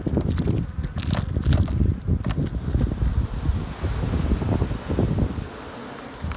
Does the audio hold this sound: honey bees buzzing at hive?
yes